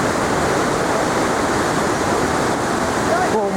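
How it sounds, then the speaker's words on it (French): Steady broadband rush of a river in Nepal flowing beneath a footbridge on a trek between valleys, loud and continuous throughout, with a faint whistle-like tone near the end. "On va passer par-dessus la rivière pour aller de l'autre côté de la vallée."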